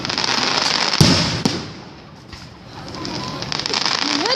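Fireworks explode in Krefeld: two sharp, loud bangs go off close together, followed by crackling and a rumbling backdrop of distant blasts and outdoor noise.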